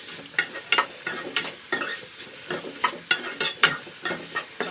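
Vegetables such as capsicum and tomato being stir-fried with masala in a pan for Chinese egg noodles: rhythmic scraping and tossing strokes over a steady sizzle, close and fairly loud, with no voices.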